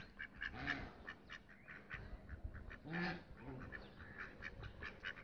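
Small ducks in a village pen quack repeatedly in short nasal bursts, several birds calling close by in an irregular rhythm against a quiet background.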